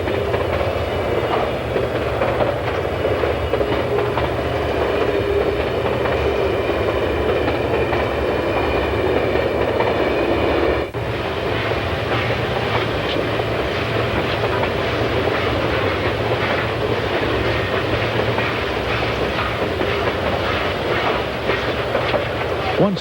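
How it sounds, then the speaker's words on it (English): A freight train on the narrow-gauge ET&WNC (Tweetsie) railroad rumbles down through a valley, a loud continuous roll of wheels with rhythmic clickety-clack on the rails that holds steady throughout. "the freight rumbles down through the valley to Hampton"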